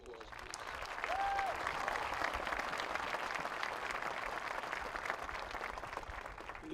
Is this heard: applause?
yes